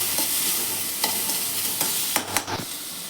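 Potato bonda mixture being stirred in a pan, with soft scraping strokes repeating every second or so and a faint sizzle beneath, ending in a couple of sharper scrapes close by.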